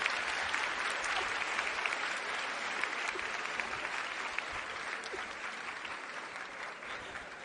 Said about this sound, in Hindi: हम नेताओं को एक बार ताली सुनने की आदत होती है।